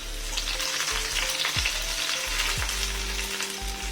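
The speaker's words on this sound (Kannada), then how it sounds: "ತುಪ್ಪ ಮತ್ತು ಬೆಳ್ಳುಳ್ಳಿ ಮತ್ತು ಕರಿಬೇವು ಇಷ್ಟನ್ನು ನಾನು ಒಗ್ಗರಣೆ ಹಾಕ್ತೀನಿ" Garlic and curry leaves sputter and crackle in hot ghee as a tempering for chicken ghee roast, a close, dense sizzle with a few sharp pops and no voices.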